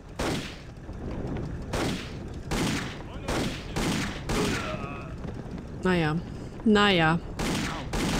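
Gunfire in the video game Indiana Jones and the Infernal Machine, several loud bursts of shots in quick succession, close and sharp, with someone speaking briefly among them.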